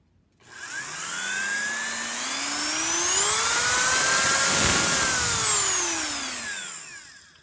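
A handheld rotary tool motor spins up, its whine sliding steadily upward in pitch as the speed climbs, holding high and loud, then winding back down as it slows, running alone and close throughout.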